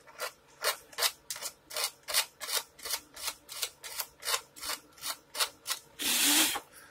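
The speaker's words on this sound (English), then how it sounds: "Some sandpaper." Sandpaper rubbed back and forth over a guitar part, about fifteen steady rasping strokes in a regular rhythm, close and clear, ending in a longer, louder scrape.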